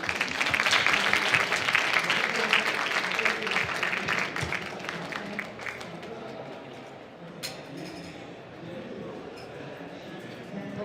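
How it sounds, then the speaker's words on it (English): An audience at a Tokyo startup conference claps loudly at first, then the applause gradually thins out and fades to scattered claps, with room murmur and a voice speaking near the end. "rounds of applause, please."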